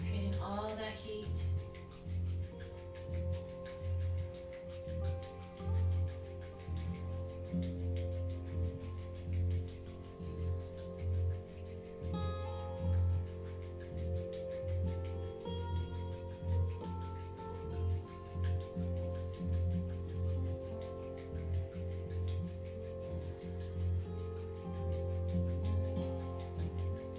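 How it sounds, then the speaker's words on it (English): Palms are rubbed together briskly during a Kundalini yoga healing-hands kriya, making a steady, close, dry friction sound with rhythmic swishes that last throughout. A low hum sits in the background. "Rubbing the palms together. It's creating heat."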